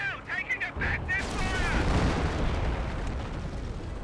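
A 25-pounder artillery barrage from Company of Heroes rains on a forward HQ, dense rolling booms and crackling impacts filling the scene, with a commentator's voice over the opening moments.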